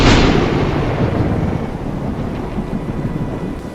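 Thunder and rain as a sound effect in a Hindi animated moral story: a loud crack of thunder rolls off into a long fading rumble beneath a steady wash of falling rain.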